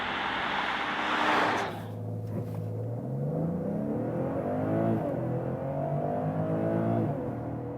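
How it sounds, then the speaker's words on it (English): BMW 540i sedan launching hard under launch control: a loud, close engine roar with rising revs and stepped gear changes, building steadily toward highway speed with no talking. "that's 100 kilometers or 60 miles an hour. That was the launch control."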